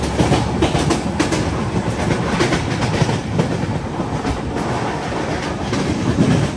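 A passenger train running from Mumbai to Pune, with a loud, continuous roar of wheels and rushing carriage noise and rhythmic clickety-clack across the rails heard from on board, steady throughout without talk.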